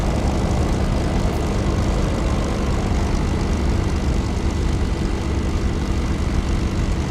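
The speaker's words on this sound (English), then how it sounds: "This Spitfire just started taxiing, and he may not know you're there." Steady drone of WWII piston aircraft engines in a flight simulator game, a Spitfire taxiing nearby at an airfield, a constant low rumble and hum without variation and no voices.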